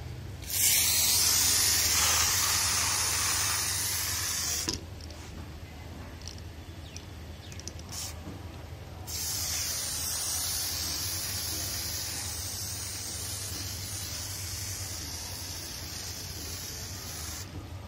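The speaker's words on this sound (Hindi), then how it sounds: "एक बार ऐसा इसको स्प्रे कर दीजिए ताकि इस पर एक कोटिंग हो जाए" Fungicide hisses from a hand sprayer onto a rose plant, a long steady spray with a brief pause and a short burst mid-way before spraying resumes, close and continuous.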